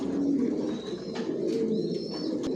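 Racer pigeons in a loft give soft, low cooing that runs steadily through the clip, with a few faint higher chirps above it and no talk.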